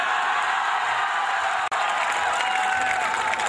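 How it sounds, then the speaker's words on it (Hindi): Audience at a Kumar Vishwas poetry event in Gyan Vihar breaks into sustained applause and cheering, a dense, steady wash of clapping with a brief dropout midway. "और तालियां तो इस बात पे उठेंगी"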